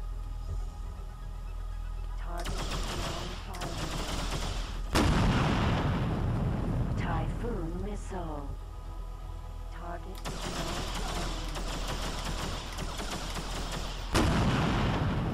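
Typhoon missile launches in the space game X3 Albion Prelude: sharp bursts and booming thumps over a steady engine drone, with a warbling tone in the middle.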